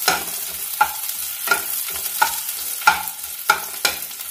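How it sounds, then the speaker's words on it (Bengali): Onions frying with freshly grated ginger are stirred in a pan, a spoon scraping in steady strokes roughly every half second over a continuous soft sizzle, close and fairly loud with no voices. "সেটা আমি অ্যাড করে দিলাম, দিয়ে আবার 1-2 মিনিট নাড়াবো।"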